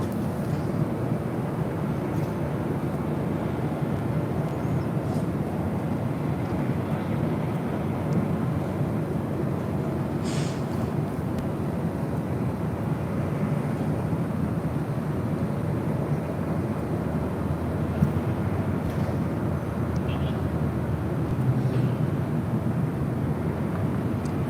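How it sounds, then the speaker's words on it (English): A Delta Boeing 757-200 jet airliner at LAX gives off a steady, broad roar at moderate distance. It holds even for the whole stretch, with a few faint ticks and no speech. "You're looking at Delta Airlines Flight 878. We'll be heading to Boston in the 757-200."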